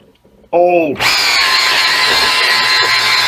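A single action polisher buffing scratches out of an old motorcycle windshield spins up abruptly and then runs with a loud, steady high whine and buzz, preceded by a brief tonal squeal as it starts.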